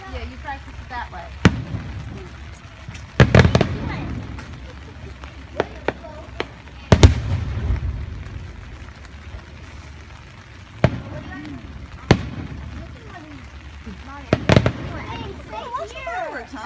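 A Fourth of July fireworks display in Evesham Township, New Jersey, with sharp bangs and thuds at irregular intervals, some distant and some louder, as people chat nearby.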